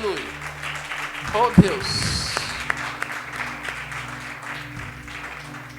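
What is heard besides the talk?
church congregation applauding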